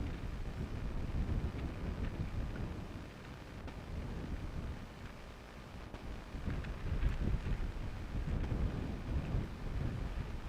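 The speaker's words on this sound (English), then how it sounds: "Now I do hear that wind is picking up a little bit." Strong wind roars and buffets the microphone steadily at Amsterdam Schiphol Airport, a dense low rumble that swells and eases over ten seconds with no other clear sound above it.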